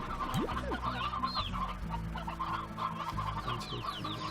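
Chickens cluck repeatedly in the video game Slime Rancher, moderately loud against a layered game-music and ambient background.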